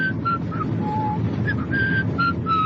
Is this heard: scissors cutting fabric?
no